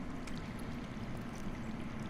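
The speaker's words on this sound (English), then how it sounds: "I hear water. From underground." Underground water flowing inside a Game of Thrones Telltale video game, a steady low rushing and gurgling wash heard alone at a constant level.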